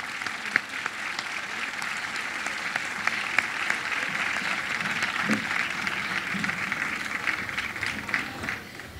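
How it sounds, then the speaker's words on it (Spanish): An audience applauding at a children's folklore festival, sustained dense clapping from a large crowd that continues evenly for about nine seconds, with a few sharper individual claps standing out. "Y un fuerte aplauso para todos ustedes,"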